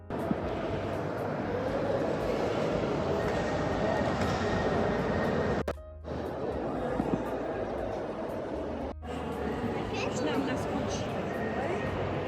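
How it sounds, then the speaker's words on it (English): Steady rumbling ambience at a train station in Brno, with a broad hum of rail traffic, briefly dropping out twice, and people talking faintly in the background. "We are at the train station right now."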